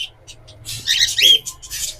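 Close, shrill squawks and chirps of pet birds, including lovebirds, in quick bursts in a bird shop, several birds calling over each other.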